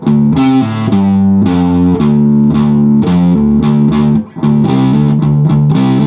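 Heavily distorted electric guitar in drop D tuning chugs through a hard rock power chord riff at a slow tempo, steady loud chords with palm-muted rhythmic pulses and one brief break near the end.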